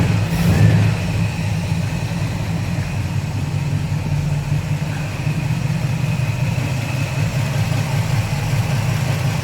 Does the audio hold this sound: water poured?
no